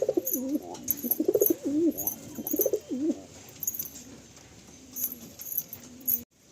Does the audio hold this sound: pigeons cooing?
yes